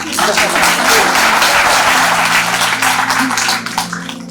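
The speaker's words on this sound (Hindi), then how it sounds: "दीदी के लिए भी ताली बजा दो" A large audience gives strong, sustained clapping for a woman at a public talk. The thick wash of claps is loud and close and sits over a low background hum, then eases slightly near the end.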